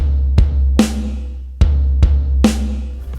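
One bar of a basic rock beat at 80 beats per minute, booming kick drum hits trading with ringing snare strikes at a steady, unhurried pace, close and alone.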